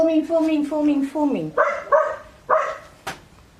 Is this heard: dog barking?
yes